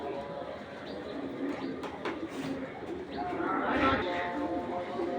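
A pair of racing pigeons fluttering and cooing close by, with a restless rustle of wings and soft coos while a voice talks over them.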